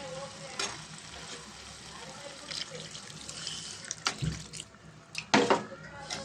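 Water splashes and pours into a hot pan of egg, dried fish and tomato curry, hissing and sizzling in short bursts, close by and fairly quiet.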